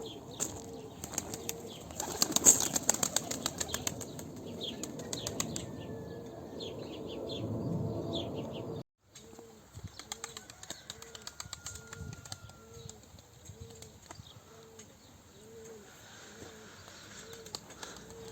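Young tumbler pigeons beat their wings in flight, a fluttery, irregular flapping heard at a moderate distance, with soft cooing and occasional chirps from other pigeons in the background.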